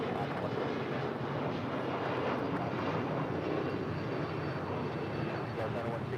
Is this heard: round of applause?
no